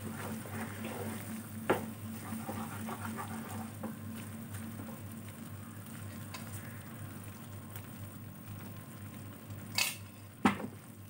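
A homemade Mysore pak mixture stirred in a pan with refined oil and Dalda, a continuous low bubbling sizzle with a few sharp spoon-on-metal clanks near the start and end.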